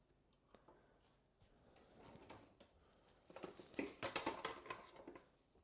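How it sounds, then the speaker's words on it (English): A metal whisk clatters and scrapes in a bowl while mixing out sugar chunks, starting as quiet intermittent taps and building into a louder, rapid rattling burst near the end. "Boom, with a whisk."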